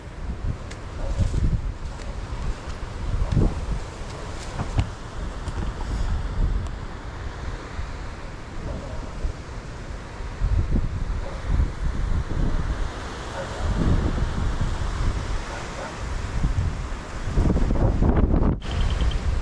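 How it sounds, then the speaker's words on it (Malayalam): Strong wind roars at the Rajapparai mountain viewpoint in Munnar, buffeting the microphone in loud, continuous gusts that rise and fall with no break. "നല്ല കാറ്റുണ്ട്"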